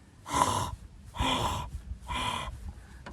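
Three slow, close breaths, each a soft airy exhale lasting about half a second, separated by short quiet pauses.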